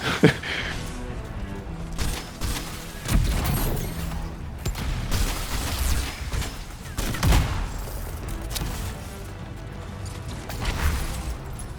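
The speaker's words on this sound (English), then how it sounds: "Just shoot this guy." Video game gunfire during a freelancer mission, dense bursts of shots and impacts continuing throughout with clattering mechanical sounds, loud and close.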